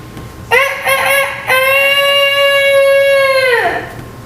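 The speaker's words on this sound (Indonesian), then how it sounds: "Itu suara ayam berkokok." A rooster crows loudly and close, a short clipped start followed by one long sustained harmonic call that drops off at the end, with no other sound present.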